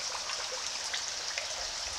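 Tap water runs steadily onto catfish fry in a flow-through hatchery, a continuous close hiss with faint splashing and trickling, no voices.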